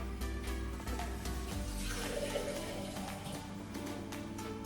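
Water poured from a small jug into a pot of thick milk while making gajrela, a continuous soft liquid pouring and splashing with a low steady hum behind it, close and moderately loud.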